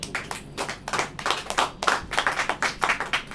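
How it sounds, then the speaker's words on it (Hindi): Hands clap in a lively, rhythmic pattern during a church service, sharp distinct claps arriving in quick groups at close range, with no talking over them. "ताली बजाइए।"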